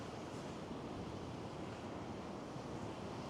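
Continuous surf rumbling around a seaside pier at Gorleston on Sea, an even wash of breaking waves mixed with wind noise on the mic, steady throughout with no talking.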